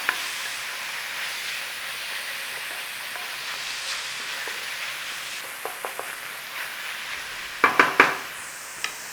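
Minced beef cooking in a pan with a tablespoon of ketchup stirred in: a steady soft sizzle and hiss runs throughout, with a few louder scraping clicks of the spoon near the end.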